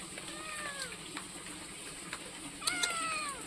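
A kitten meows twice, the first cry around the middle and a second, sharper one near the end, both close and clear over a quiet room.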